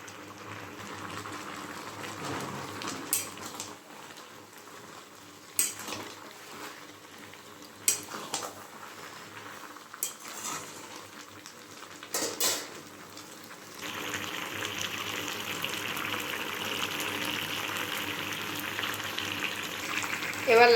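Bottle gourd and fried prawns cook in a pan with a low, continuous sizzle broken by utensil clinks and stirring knocks, the sizzle growing louder and denser toward the end.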